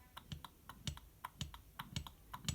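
An IHI VF23 turbocharger shaft being turned by hand, giving a quick series of light, dry clicks in an irregular rhythm, close up and with no talk.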